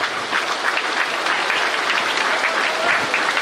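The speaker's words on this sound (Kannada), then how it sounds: "ನಿತ್ತಲ್ಲೇ ಎಲ್ಲರೂ ಕಲಾಸಕ್ತರೊಂದು ಜೋರಾದ ಚಪ್ಪಾಳೆಯನ್ನು ಕೊಡಬೇಕು ಅಂತ ಕೇಳಿಕೊಳ್ತೇವೆ." Sustained, dense applause from an audience at a cultural programme at the Puttige Matha in Udupi, a loud, even wash of many hands clapping with no break, nearby and filling the room.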